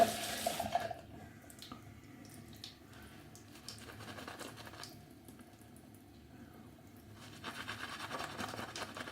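A tap runs water for wetting a heavy-duty shaving soap, giving a steady splashing gush that begins loudly, eases to a softer trickle and swells again near the end, with no talking.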